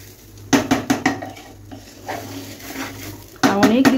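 Pots and a pressure cooker handled while cooking pulao, a quick run of clanking metal knocks, then quieter stirring and a louder clatter at the end, with brief voice sounds in between.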